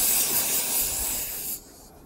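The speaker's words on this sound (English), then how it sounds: "I did get some steam." Steam hisses strongly from a rocket stove steam generator in a loud, continuous rush, then drops off abruptly near the end to a quieter residual hiss.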